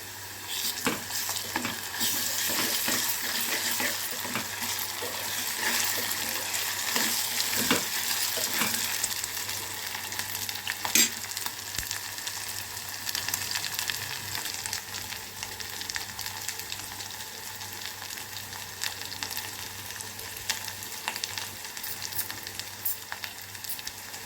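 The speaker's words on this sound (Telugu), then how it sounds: "ఉల్లిపాయ పచ్చిమిరపకాయ కొంచెం వేగినాక అల్లం పేస్ట్ కూడా వేసి వేగనివ్వాలండి" Onion, green chili and ginger paste fry in a pan for a tomato and tender brinjal curry, a steady close sizzle with occasional stirring scrapes, carrying on alone without talk.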